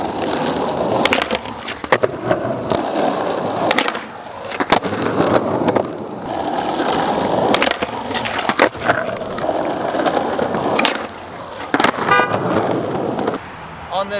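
Skateboard fitted with Powell Dragon wheels and Spitfire soft sliders grinding and sliding along a heavily waxed, sticky curb, a steady scraping rush repeated in several passes with sharp knocks between, outdoors near street traffic.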